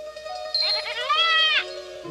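A goat on an Alpine pasture lets out one clear, wavering bleat lasting about a second, rising over a soft background tone.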